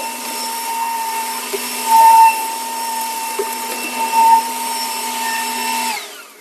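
A 21V cordless leaf blower runs steadily with a loud, close whine while blowing dirt across a yard, swelling slightly twice before cutting off near the end.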